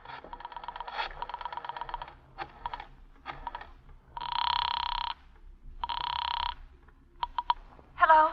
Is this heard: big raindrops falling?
no